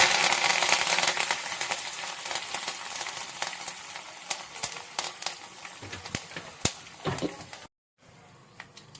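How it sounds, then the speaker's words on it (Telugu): Cumin seeds and curry leaves spitting in hot tempering oil, a busy crackle of close sharp pops that thins out near the end, with a short silent gap before the sizzle resumes more faintly. "జీలకర్ర మొత్తం చిట్పట్ అంటుంది కదా, ఇప్పుడు కరివేపాకు వేసేద్దాం లాస్ట్లో"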